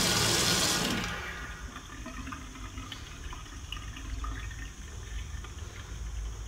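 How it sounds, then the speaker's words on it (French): Hot water gushing from a newly installed mixer faucet, loud at first and then settling into a steady running splash into the sink. "Eau chaude sur les deux passages."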